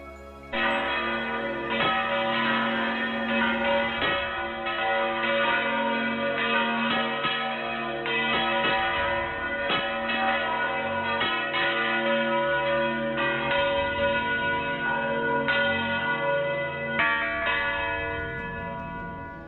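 Church bells peal loudly and continuously, several bells swinging and striking in a busy, overlapping rhythm that carries on without pause for nearly twenty seconds.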